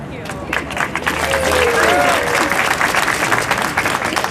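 A large crowd at an Equal Pay Day rally in Michigan claps and cheers loudly and continuously, with scattered whoops rising above the dense applause.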